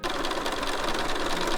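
A sewing machine stitches a plaid coat in a quick, steady rapid-fire whir of needle strokes, close and continuous through the brief moment.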